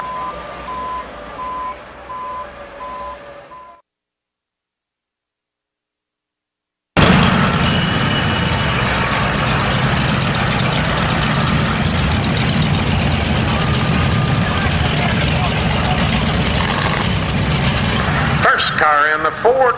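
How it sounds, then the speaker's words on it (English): A water truck at a county demolition derby track beeps steadily as it reverses, its heavy diesel engine idling and then rumbling loudly as it drives onto the track, after a stretch of near silence. "Water truck going to come in and wet it down just a little bit."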